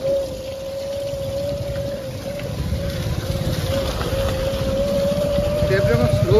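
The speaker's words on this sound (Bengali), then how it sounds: "এটা স্যার ড্রাইভ ট্রেনের আওয়াজ।" Electric scooter drivetrain gives a thin steady whine that holds one pitch while motor and road rumble swell slightly louder toward the end; a voice is heard.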